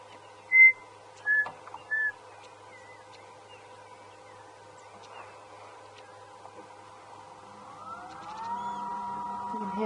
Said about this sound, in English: You can hear the dark-capped chegra,